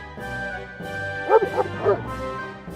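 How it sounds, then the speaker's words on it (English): A few short dog barks and whimpering yips sound close by over a low, steady background hum. "The rescuers noticed Pepe's barking and they rushed in."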